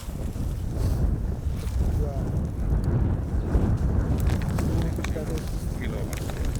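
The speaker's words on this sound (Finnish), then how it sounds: "Tässä vielä tuuli." Steady southerly wind roars and buffets across the microphone on Lake Inari in winter, a constant low rumble with faint water sounds beneath.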